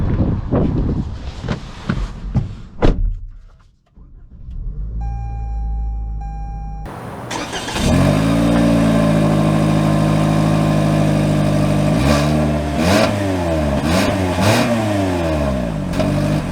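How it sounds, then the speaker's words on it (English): A 2022 Toyota Corolla XSE starts up, then settles into a steady engine drone that rises and falls as it pulls away and changes gears, loud and close from inside the cabin. "Setting off here in the Corolla"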